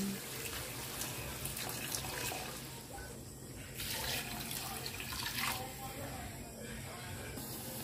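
Water runs steadily into a pot with a continuous splashing, gurgling rush, fairly close and moderately loud.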